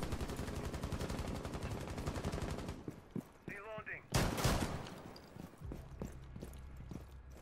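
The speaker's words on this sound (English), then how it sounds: "I'm getting killed with a shotgun" Rapid gunfire from the Rainbow Six Siege video game, a dense loud burst of shots for about three seconds, then scattered sharp reports and a bright blast amid quieter game noise in a close-quarters room.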